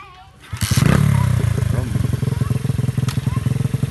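A motocross motorbike engine catches and revs as a beginner lets the clutch out on a first ride, then settles into a loud, close, rhythmic chugging idle, with voices talking over it.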